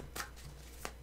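Tarot cards shuffled by hand in a few quick riffling bursts, close and fairly quiet, with short pauses between.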